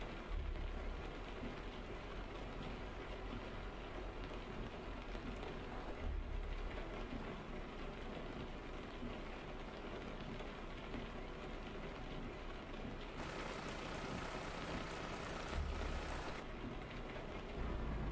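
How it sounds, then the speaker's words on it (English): Steady rain patters throughout a Euro Truck Simulator 2 summer drive, a constant broadband hiss at even loudness with faint low engine rumble underneath and no talk. "it's the first time I've seen so much rain during the summertime"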